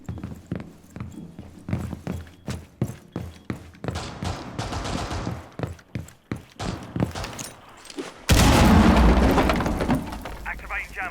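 Bombs go off in the video game Operation Steel Wave: a run of sharp thuds and bangs, then a loud, sustained rumbling blast near the end, with players talking over the action.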